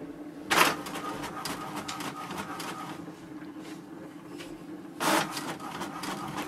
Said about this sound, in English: wait for the printer to do the copy